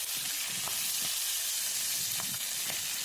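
Fish frying Kerala-style in hot oil gives a steady, close sizzle with a bright hiss, broken now and then by soft pops and crackles, and no voices over it.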